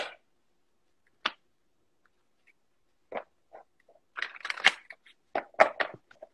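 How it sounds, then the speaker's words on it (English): A deck of playing cards is shuffled at a table in scattered short riffles and flicks, quiet and close with silent gaps between bursts. "I'll shuffle."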